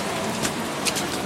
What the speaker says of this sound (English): she was telling you to cover because it's raining